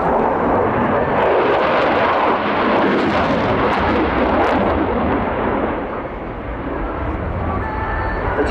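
Eurofighter Typhoon fast jet flying an airshow display at RIAT 2023, a loud, continuous broadband engine roar that stays strong throughout and eases slightly near the end, heard alone without talk.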